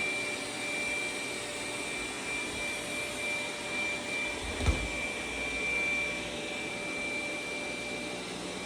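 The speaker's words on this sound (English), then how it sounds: "here comes the Z10. Its suction is set to maximum" A Dreame Z10 Pro cordless vacuum runs at maximum suction in a steady, close, loud roar with a high whine, making a single pass over sand and cat litter, a brief thump near the middle.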